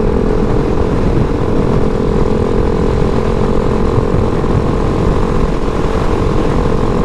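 A 2019 KTM 690 SMCR single-cylinder motorcycle riding at steady speed, its engine drone loud and continuous under heavy wind rush from start to finish, no voices heard.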